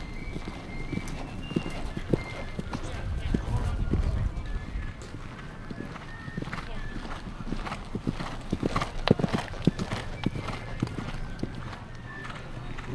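Four cavalry horses in a section drill at a living history festival clip-clop steadily on hard ground, their hoofbeats overlapping in an uneven rhythm at moderate distance with a faint background murmur.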